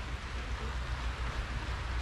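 Steady rain falls on an outdoor house-building site in the Philippines, a continuous even hiss with low rumble throughout and no voices.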